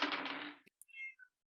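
A house cat lets out a loud meow up close, then a few faint, short chirping mews trailing off in a quiet room.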